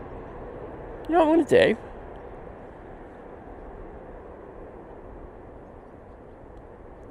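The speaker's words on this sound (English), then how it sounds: "And there goes the Etihad Dreamliner off to road" An Etihad Boeing Dreamliner takes off from Manchester Airport, a low, distant engine rumble steady beneath a brief burst of nearby speech early on.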